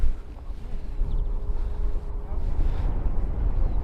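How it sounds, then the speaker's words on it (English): Wind buffets a microphone at an outdoor airport in Christchurch, making a loud, low rumble that gusts unevenly throughout. A faint tonal hum runs underneath. "No, that's the wind, just if I'm not touching it."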